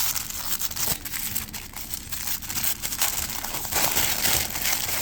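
Tissue paper wrapping crinkling and tearing up close while a package is unwrapped, a busy stretch of rustles, crackles and short ripping bursts, quiet and without talk.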